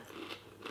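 Close, crisp crunching of someone eating beef steak ragu with Scotch bonnet and ghost chilli, a few quick bites over low background hiss, quiet and intimate, no talk.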